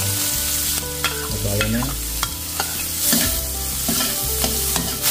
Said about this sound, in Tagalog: Gisa na po natin yung ating bawang sibuyas at luya.